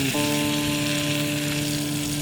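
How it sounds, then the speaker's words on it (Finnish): A trout fillet sizzling in a frying pan outdoors on a fishing trip in Finnmark, Norwegian Lapland, a steady close hiss of frying with a faint tonal hum beneath it. "Kyllä se vielä viimeisenäkin päivänä taimenfile pannulla tirisee."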